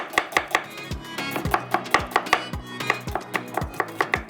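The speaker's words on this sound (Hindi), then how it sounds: "एक प्याज को हम कटिंग कर लेते हैं स्लाइस में" An onion is sliced on a board, a brisk run of about twenty sharp knife chops in an uneven rhythm, close and distinct with no talking.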